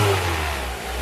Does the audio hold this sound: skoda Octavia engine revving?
yes